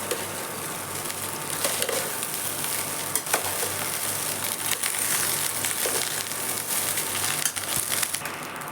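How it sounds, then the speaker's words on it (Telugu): Egg rice sizzles in a pan on a stove while being stirred, a loud continuous frying hiss with crackles and periodic scraping turns of the spatula, close up and without voices. "ఇంకా స్టవ్ మీద పెట్టేసి ఇట్లా తిప్పేయటమే."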